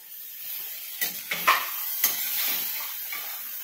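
Pulao stirred and fried with ghee in a pan: a steady soft sizzle runs throughout, broken by several short scraping clatters of a spoon against the pan.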